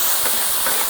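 Hot pot base simmers in a pan with a loud, steady hiss and faint bubbling, close up and without any talking.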